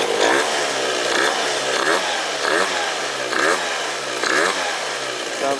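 A Stage6 MK2 70cc scooter engine runs at a warm idle during break-in, a steady buzzing two-stroke drone with slight rhythmic pulsing, close and loud with no voices.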